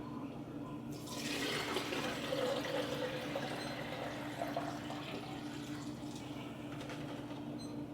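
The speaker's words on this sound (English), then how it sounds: "what we'll do is we'll pour that in here." A steady stream of gravy pours and splashes into a grease separator for several seconds, fairly close, over a low constant hum.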